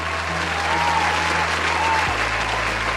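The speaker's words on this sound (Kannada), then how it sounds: "ರೆಡಿ, 1 2 3 ಬರಲಿ ಜೋರಾದ ಚಪ್ಪಾಳೆ" Loud, steady applause from an audience at a prize distribution event in Mandya, a dense continuous wash of clapping from a large crowd lasting throughout.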